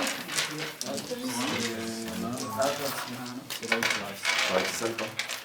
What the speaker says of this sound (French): Alors les tuiles là, en fait. Voilà, donc là on mélange tout ça.